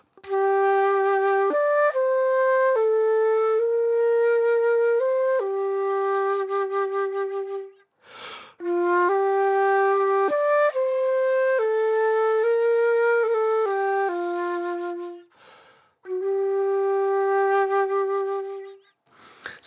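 Geralt's theme from The Witcher 3 soundtrack, a sustained melodic line of held and stepping notes in two long phrases separated by brief pauses, played loud and alone without any talk.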